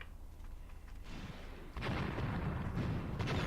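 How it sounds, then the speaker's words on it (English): Mortar fire in the war game Graviteam Tactics: a dull, steady roar of distant shelling that suddenly swells into heavier, louder rumbling blasts partway through. "I called in mortars on them here as well."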